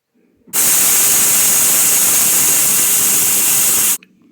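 An electric mixer grinder jar grinds roasted curry leaves with a loud, even roar that starts abruptly, runs for about three and a half seconds, then cuts off sharply.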